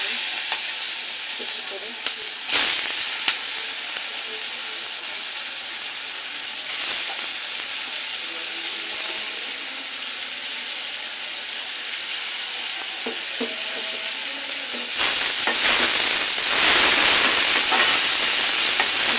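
Onions sizzle and fry in hot oil in a home kitchen for a pre-dawn sehri meal, a steady loud crackling hiss that swells louder toward the end, with a brief spoken remark near the start.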